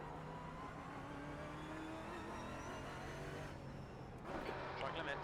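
The engine of a Mustang GT4 race car drones at a steady pitch in the iRacing simulator, faint and distant, and the sound brightens briefly near the end.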